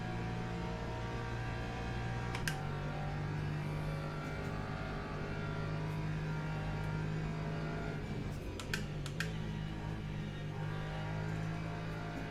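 A race car engine drones steadily through the Porsche curves at Le Mans in the Le Mans Ultimate racing game, a continuous loud hum holding pitch with brief gear-shift blips, no talking over it.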